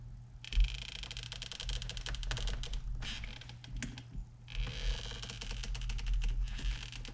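A plastic piece is pushed out of a 10th-gen Civic Type R steering wheel in quick bursts of close, clicky plastic rattles and scrapes, separated by brief pauses.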